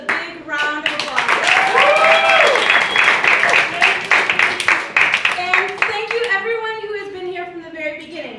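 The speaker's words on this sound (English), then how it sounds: "Please give yourselves a big round of applause." Audience at a leftist comedy night in Memphis, Tennessee, clapping in steady applause, mixed with whoops, chatter and laughter that linger as the clapping thins toward the end.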